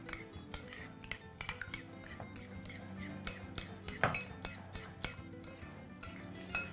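Salad ingredients with salt and crushed black peppercorns tossed in a bowl, a steady series of light clinks and taps of utensils against the bowl in an uneven rhythm, close and fairly quiet with no talk.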